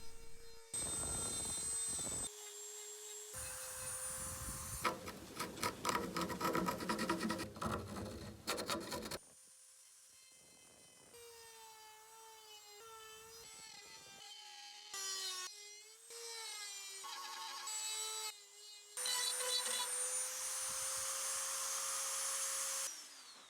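A rotary tool with large round bits carves a wall art sculpture, its high whine rising and falling through repeated passes, interrupted by pauses and rough grinding bursts as it bites into the material.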